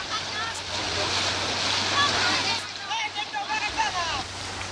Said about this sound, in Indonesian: Dengan hati-hati warga menyeberangi sungai yang berarus deras ini.